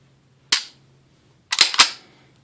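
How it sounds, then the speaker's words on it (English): Handgun trigger being worked dry, one sharp click followed a second later by a quick cluster of two or three crisp clicks as the trigger resets and breaks, close and loud in near silence. "from the point of reset to the breaking off of that next shot, you're traveling that much"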